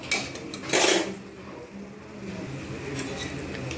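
A lid is set on a pan of prawn curry cooking on the stove: a brief metallic clatter and clink up close, followed by a low, steady simmer with no clear speech.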